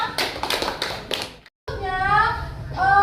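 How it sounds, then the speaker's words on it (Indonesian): A class of schoolchildren in an Indonesian classroom claps in short rhythmic bursts, then stops briefly before children's voices rise in drawn-out chanting speech. "Tepuk tangannya"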